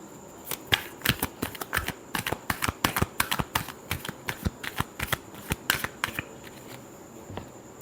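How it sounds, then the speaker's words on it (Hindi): Tarot cards being shuffled in a steady run of crisp, riffling flicks and slaps, close and fairly loud, repeating for the whole stretch with no talking. "last shuffle"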